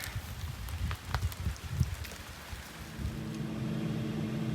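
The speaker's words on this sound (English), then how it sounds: "It's raining, of course." Steady rain patters with scattered drops, settling into a constant hiss with a low rumbling drone underneath by the end.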